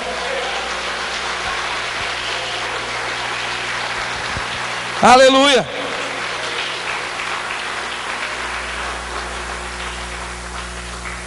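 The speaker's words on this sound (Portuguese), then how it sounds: "Você pode aplaudir o Senhor?" A church congregation applauds steadily and densely throughout, a continuous wash of many clapping hands, with a brief shouted voice rising above it midway.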